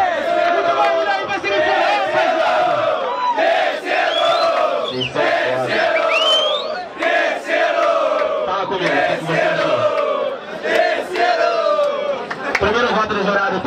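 A crowd at a Brazilian rap battle, Batalha do Tanque, cheers and shouts continuously and loudly, with a host's amplified voice calling out over the dense roar of voices.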